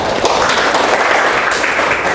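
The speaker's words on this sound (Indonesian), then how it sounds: "Tepuk tangan. Luar biasa." A classroom of students claps together in a university teaching session, a dense, steady patter of applause lasting a couple of seconds, loud and close, with no speech over it.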